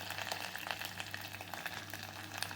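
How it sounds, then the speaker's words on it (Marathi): Ingredients with curry leaves roasting in a pan for Maharashtrian katachi amti, a soft continuous sizzle with faint stirring scrapes, low and steady throughout. "आता हे व्यवस्थित भाजून घ्यायचं."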